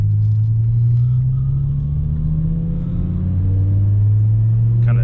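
A BMW E60 M5 under way on a test drive, its engine a loud, steady low rumble heard from inside the car, the pitch rising slightly and easing as it cruises, with no talking.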